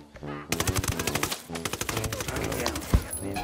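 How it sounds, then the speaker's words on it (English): Rapid automatic gunfire in Ghost Recon Wildlands, dense rattling bursts of shots, with a short pause midway, then a heavier single boom near the end. "I got a sniper. Let me snipe."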